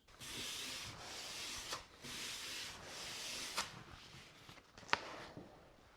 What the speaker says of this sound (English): now I'm going to sand the table with 320 sandpaper